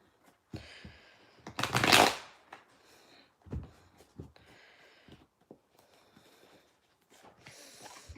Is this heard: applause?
no